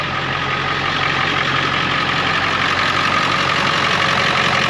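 A Ford Excursion's 7.3 engine runs steadily with a loud, continuous rumbling idle and an even drone throughout, heard close with no talking; the truck has a fuel leak.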